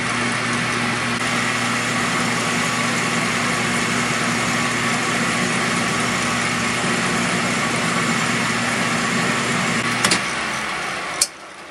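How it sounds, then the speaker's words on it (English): A lathe drills a 3/8 hole down the center of a turned bolt, giving a steady, loud motor drone with a constant hum, unbroken for the whole stretch until a brief click near the end. "now we're just merely drilling a 3/8 hole right down in the center of it"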